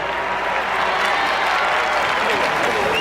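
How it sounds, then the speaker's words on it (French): A hockey arena crowd applauds: dense, even clapping with a crowd murmur, loud and sustained without a break. "Sous les applaudissements de la foule qui reconnaît l'effort du"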